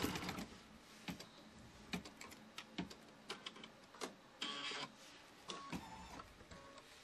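An embroidery sewing machine stitches quilt fabric in a quiet room, giving a rapid mechanical chatter in short bursts separated by brief pauses, close and fairly faint, with no talk.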